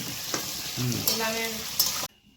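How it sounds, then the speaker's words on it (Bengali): Mango pieces for pickle sizzle and crackle in hot oil, with a stir or two against the pan before the sound cuts off abruptly. "ওই আমগুলোকে এখন প্রথমে ভেজে নেওয়া হচ্ছে"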